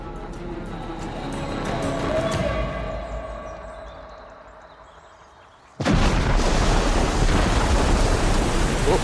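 A bomb carried by an early combat submarine about 30 feet below the surface explodes beside a British ship, starting as a low rumbling wash that fades, then an abrupt loud, sustained roaring blast of noise.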